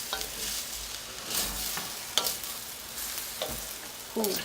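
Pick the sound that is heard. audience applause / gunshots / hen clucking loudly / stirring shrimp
stirring shrimp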